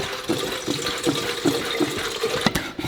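Water pouring into 5-gallon water jugs being filled, a close gushing and gurgling flow with a rhythmic glugging pulse repeating every half second or so.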